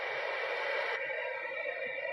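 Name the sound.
sound machine running in the background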